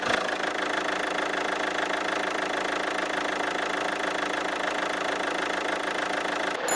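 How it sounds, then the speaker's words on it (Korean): The diesel engine of a Daewoo Lacetti Premium CDX idles steadily with the hood open, a constant rattling, knocking clatter with an even rhythm throughout, heard up close. "디젤 차량의 엔진음은 어떨지 들어보도록 하겠습니다"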